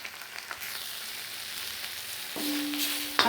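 An onion-tomato masala sautés in a pan with fresh coriander, making a quiet, steady sizzling hiss. A faint tonal hum joins near the end. No one speaks.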